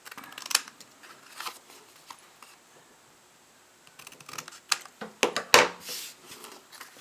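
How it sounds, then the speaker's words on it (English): Scissors snip through a paper craft tag in a quiet room, several short crisp cuts in quick succession, loudest near the end, with no talking. "I'll cut this one to fit."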